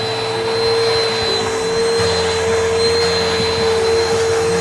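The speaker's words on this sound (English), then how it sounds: "we don't have to just vacuum it" A vacuum cleaner runs without a break while cleaning upholstered chairs, a loud, steady whine with a low roar under it and a high-pitched tone on top, close by and with no voices.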